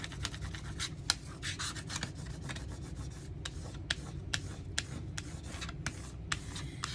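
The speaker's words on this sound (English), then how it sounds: "I can go harder with my tool here, and we call this burnishing" A burnishing tool is rubbed hard back and forth across a sign board, giving a steady close scraping rub with sharp repeated strokes throughout.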